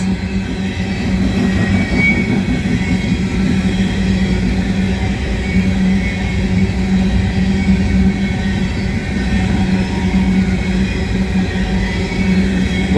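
A CSX freight train rolls steadily past at Kingston, Georgia, a loud continuous low rumble of wheels and cars on rail filling the whole stretch without letup.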